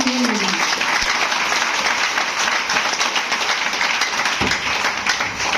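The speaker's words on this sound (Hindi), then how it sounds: "तो एक जोरदार ताली नीचे" Audience at a DXN distributor meeting in Patna breaks into loud, sustained applause, a dense wash of clapping that fills the room for several seconds without pause.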